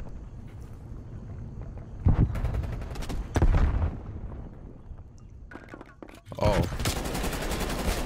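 Krig 6 rifle gunfire in Call of Duty, with a few loud, sharp bursts standing out over steady game noise and a continuous low rumble.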